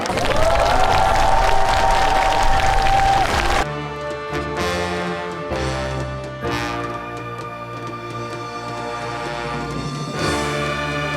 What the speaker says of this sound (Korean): 아름다운 연주를 선사해줄 꿈의 오케스트라의 무대를 여러분들의 뜨거운 박수와 함께 시작하겠습니다